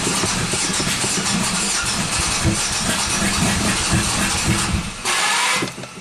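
A 1997 Buick 3100 V6 cranking at wide open throttle, a steady churning starter rhythm for several seconds with the engine almost catching before a brief pause.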